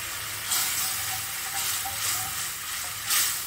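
Asafoetida dropped into a hot pan of oil while making puli inji, a steady close sizzle with brief louder bursts of frying hiss.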